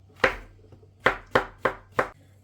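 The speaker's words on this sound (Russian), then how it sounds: "И дальше нарезаем полкилограмма грибов." Half a kilogram of washed mushrooms being sliced with a knife on a board: five sharp, close chops, one, a pause, then four in quick, even succession.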